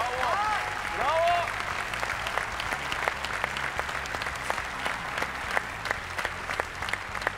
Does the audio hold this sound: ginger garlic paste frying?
no